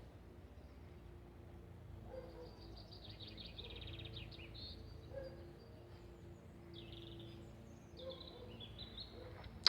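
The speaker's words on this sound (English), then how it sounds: "listen to the birds" Garden birds in Essex, United Kingdom chirp and twitter faintly in short scattered phrases over a quiet outdoor background hum.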